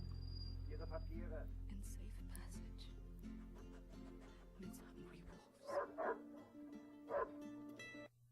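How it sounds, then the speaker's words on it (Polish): Dog in Wolfenstein: The New Order barking and yipping in a few short bursts near the end, after a loud low rumble cuts out, with other game noises around it. "Piesek."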